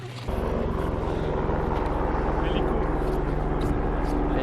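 A helicopter flies over a ski resort, its steady droning rotor and engine noise filling the scene continuously at a fairly loud, constant level from start to finish.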